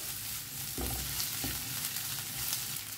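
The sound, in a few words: garlic paste frying in a pan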